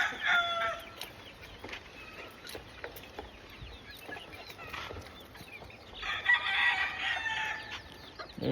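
Chickens cluck steadily on a game farm while a rooster crows loudly twice, once near the start and again near the end, amid scattered bird calls close by.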